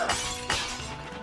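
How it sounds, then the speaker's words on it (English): Rocks smash with a glassy shattering sound in the video game Trine 3, two sharp crashes about half a second apart, each trailing off into brief tinkling debris. "Sounds like glass."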